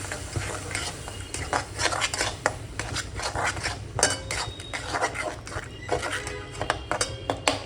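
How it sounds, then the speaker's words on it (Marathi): A spoon scrapes and clinks as tomato paste is stirred into a sizzling masala in a pan. The stirring strokes come in a quick irregular rhythm over a soft frying hiss, close by. "आता आपण ह्याच्यामध्ये टोमॅटोचं पेस्ट टाकूया, एकत्र करू आपण।"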